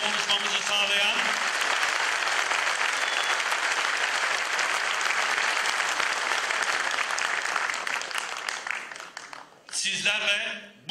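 Sustained applause from an audience at a political panel on constitutional change in Muğla, steady and dense for about nine seconds before tapering off, with a brief burst of voices near the end.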